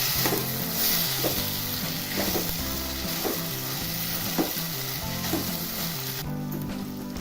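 Mixed vegetables for Bhogi bhaji roasting in oil in a pan: a steady, dense sizzle and crackle runs throughout, broken by a few soft knocks and stirring scrapes, with a brief dip near the end.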